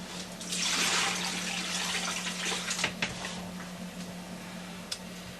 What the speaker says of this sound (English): I'm just going to put these in some water to soak